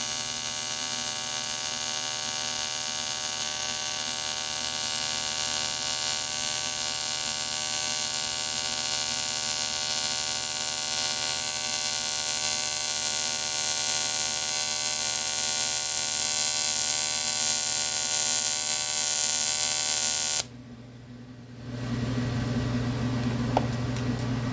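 A welding rod is stick welding a metal piece, producing a steady, droning electric buzz with a hissy crackle. It runs unbroken for about twenty seconds, then cuts off abruptly and is followed by quieter room noise.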